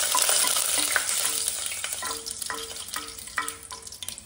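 Cinnamon leaf sizzles in about three tablespoons of hot oil at the bottom of a pressure cooker, a bright crackling hiss with stirring clinks that slowly settles, close and alone.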